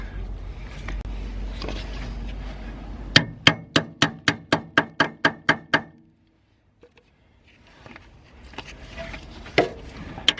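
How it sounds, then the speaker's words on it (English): Socket hammered onto a bolt at the rear upper shock absorber mount of a Volvo V50/S40/C30-type car: about nine sharp metallic hammer blows in a quick, even rhythm, close and loud, then quiet workshop sounds. "we're gonna start by hammering in the socket right here so it sits really well"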